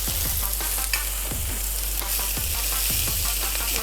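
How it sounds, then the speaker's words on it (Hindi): A chicken shami patty fries on a greased griddle, giving a steady, close sizzling hiss with soft rhythmic scraping taps throughout and no talking. "इनको हमें थोड़ा सा फ्राई करना है"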